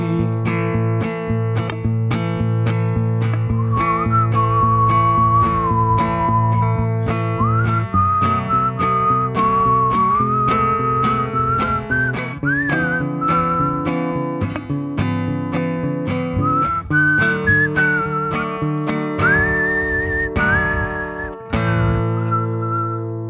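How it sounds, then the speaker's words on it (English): Whistling over a steady instrumental backing, with a sustained melodic line that includes notes whistled on an inward breath; loud and continuous, with no talking over it. "he just did the inside inward whistle for that last note"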